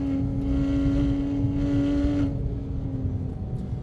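Porsche on carbon fiber wheels cruising at steady speed, a constant engine drone with road and wind rumble from inside the cabin, easing slightly toward the end.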